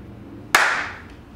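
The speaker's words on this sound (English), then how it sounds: "Clap again" A single sharp hand clap on a film set rings out close and loud, trailing a short roomy decay before quiet returns.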